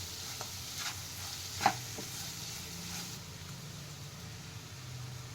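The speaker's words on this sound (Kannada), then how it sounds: "ಚೆನ್ನಾಗಿ ಫ್ರೈ ಮಾಡ್ಕೊಳ್ಳಿ." Ground mustard, cumin and fenugreek powder frying in a pan for a tamarind pickle, a faint, low sizzle with occasional stirring scrapes and one brief louder knock, no speech.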